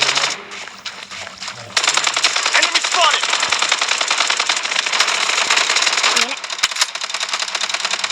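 Gunfire in the shooter game Blood Strike, a dense, loud stream of rapid crackling shots running almost continuously after a quieter opening, with a voice talking over the action.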